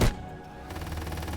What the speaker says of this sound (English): it has a new sound for its cannon